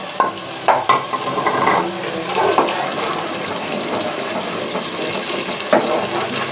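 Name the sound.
ground tomatoes added to browned onions, stirred in pan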